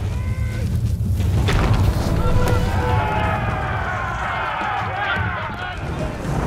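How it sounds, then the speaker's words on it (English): A building crumbles under attack in the medieval strategy game Age of Empires IV, a cavalry stable being destroyed; dense booming impacts and rumbling collapse fill the scene over a steady layer of battle noise and game music. "The invaders' cavalry post was destroyed"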